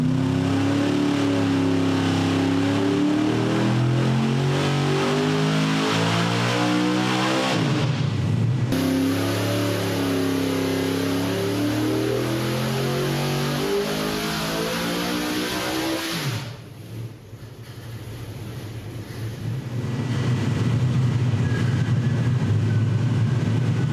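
An engine fitted with a 3D printed intake manifold runs on a dyno, a loud, close, sustained roar that holds steady, dips briefly, then climbs again, with a high whine over part of the run.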